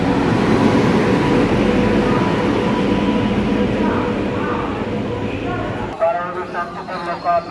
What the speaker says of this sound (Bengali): আমার ট্রেন ঢুকে গেছে হাটেবাজার এক্সপ্রেস।